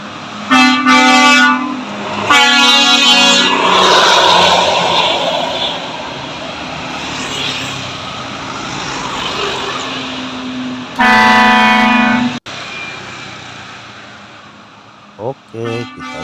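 Dump truck horn blasting loudly several times, long honks with a deep harmonic tone in two bursts near the start and another later, over a running engine at a wood-hauling site.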